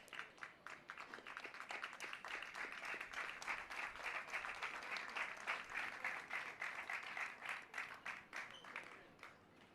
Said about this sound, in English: That was the clapping.